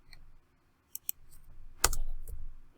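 Brief keyboard clicks of a search being typed on a computer keyboard, a few scattered keystrokes then a short burst, fairly close and quiet, with no talk.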